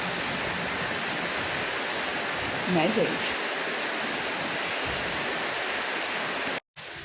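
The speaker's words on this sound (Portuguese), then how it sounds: "Olha o tanto que choveu." Heavy rain pours outside in a dense, steady hiss that fills the whole scene, with someone speaking briefly over it.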